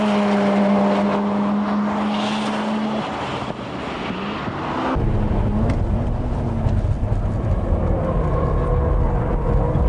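Race cars lapping Tsukuba circuit in 1996, including an RX-7, a Spoon Integra R, an R33 GT-R, a Supra and a GTO. Loud engine howl shifts pitch through the gears and swells as cars pass close by, with no talk.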